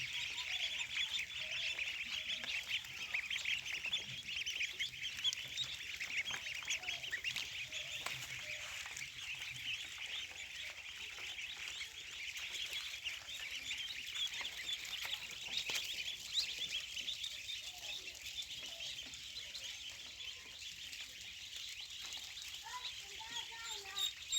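Many Black Pull breed ducklings calling together at a hatchery in Mymensingh, Bangladesh: a dense, continuous chorus of high peeping that holds steady throughout.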